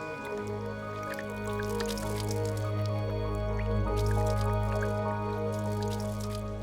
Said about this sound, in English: Watch what happens when I pour water on them.